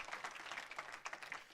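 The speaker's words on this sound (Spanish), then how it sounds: "Denle un fuerte aplauso al Rey de la Gloria conmigo en este momento." A church congregation claps in a dense, continuous patter of applause, faint and distant-sounding, with no voice standing out.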